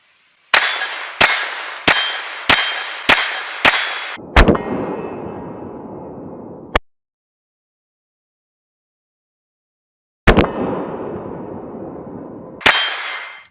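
Six sharp .22 pistol shots from a Ruger Mark IV 22/45 fitted with a compensator, firing Federal high-velocity ammunition, each ending in a ringing metallic clang off a steel target. Two more hits follow later, each with a long ringing decay and silence between.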